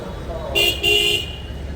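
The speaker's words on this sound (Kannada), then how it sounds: "ಇಲ್ಲಿ ಮತ್ತೊಂದು ಕೆ ಎಸ್ ಎಕ್ಸ್ ಸಿ ಗಾಡಿ ಬಂದಿದೆ ಜಸ್ಟ್ ಇವಾಗ" A KSRTC bus arriving at Bhatkal bus stand gives two short, bright horn honks close by over a low engine and street rumble.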